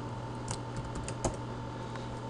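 Fingers type code on a computer keyboard, a soft, close, quick patter of key clicks over low background hum, without talking.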